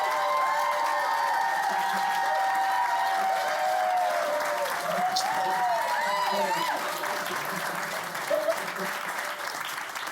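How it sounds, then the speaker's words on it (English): Audience applause after a live reading of a sitcom pilot: continuous dense clapping at a steady level, with a voice speaking over it. "Can I get another round of applause for them?"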